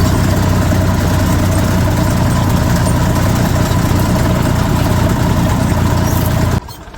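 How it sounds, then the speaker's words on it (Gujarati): A farm tractor engine runs steadily close by, a loud, continuous low rumble that holds constant and then cuts out abruptly near the end. "તો જો આપણે ટ્રેક્ટર લઈ આવ્યા અહીંયા દાંતી જોડવા ઓલી બાજુથી આપણે આ બાજુનું ખેતરે."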